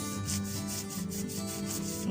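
A hand rubs rhythmically across a muddy letter card, a soft scratchy swish repeating about every quarter second, close and fairly quiet, with no talk.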